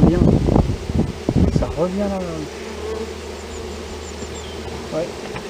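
A swarm of black bees buzzes, with droning insect hum under close talk at the start, then rising and falling buzzing that carries on fairly faintly.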